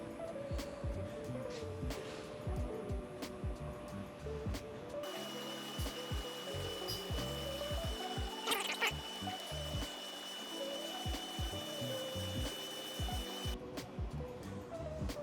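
A sourdough mixer's paddle churns flour and water in a steady, low mechanical whir with soft sloshing and thumps, running continuously at moderate volume close by, with a voice briefly heard.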